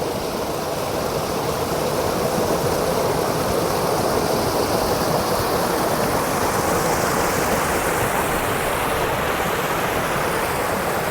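A small mini waterfall in hilly jungle rushes steadily, a loud, continuous broadband splashing roar heard close up with no voices.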